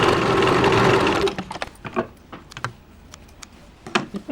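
Sewing machine stitching the joint of a skirt, a steady loud whirring run for about a second, then stopping and leaving scattered handling clicks and taps.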